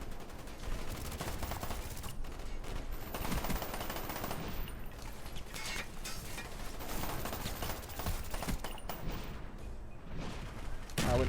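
Mini Uzi fire in a first-person shooter game, rapid continuous bursts of automatic gunfire with explosions and other shots mixed in, dense and loud throughout.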